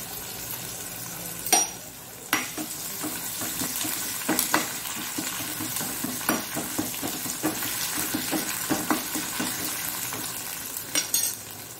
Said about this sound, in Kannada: ಒಗ್ಗರಣೆ ಸೊಪ್ಪು, ಕೊನೆಗೆ ಸ್ವಲ್ಪ ಹಿಂಗನ್ನು ಹಾಕೊಳ್ಬೇಕು ನಾವು